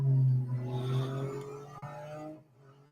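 A car engine in the Real Racing 3 mobile racing game hums steadily with a faint clattering texture, loud at first and tapering off over a few seconds.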